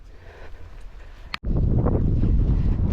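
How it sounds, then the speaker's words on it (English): Wind buffets the microphone outdoors at Kinder Reservoir in a heavy, low rumble that cuts out briefly, then returns louder and stronger. "it's getting very windy now"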